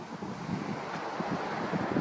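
Steady wind buffets the microphone around an open field, producing a continuous low rumbling roar with no voices.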